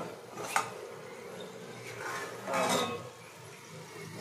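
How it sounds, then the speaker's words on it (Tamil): A metal plate used as a lid is lifted off a pan of rava kichadi cooking on a low flame, giving a couple of faint metallic clinks and scrapes over a quiet kitchen background. "இப்போ நம்ம தட்டை எடுத்துடலாம்"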